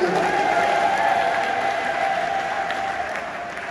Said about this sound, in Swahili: Makofi mengi kwa ajili yake